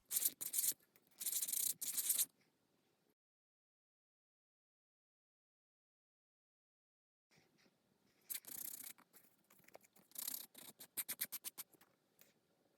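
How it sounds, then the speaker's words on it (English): Bursts of scratchy rubbing, like hand sanding on metal, in two stretches separated by a long silence, the later strokes quicker and choppier. "When sanding metal, you want to be really careful with the flakes."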